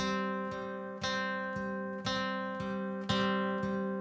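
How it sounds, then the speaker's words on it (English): Plucked acoustic guitar notes ring out in a steady, repeating fingerpicked pattern, each accent arriving about every half second, clear and close with no talking. "I basically do some picking pattern with my right hand."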